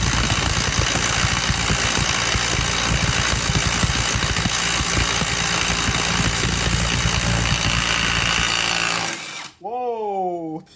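A Ronix 8906K impact driver hammers continuously and loudly at close range for about nine seconds, a dense rattling drone that cuts off abruptly, followed by a brief trailing whine.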